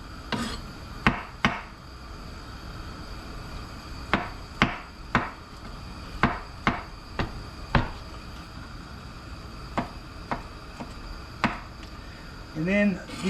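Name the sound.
slicing leftover turnips thin with a knife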